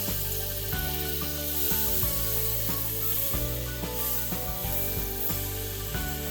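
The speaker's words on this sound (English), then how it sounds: "You definitely want that sizzle" Steak sizzles in a pan of hot butter and vegetable oil, a steady bright hiss running throughout, with background music playing underneath and no talking.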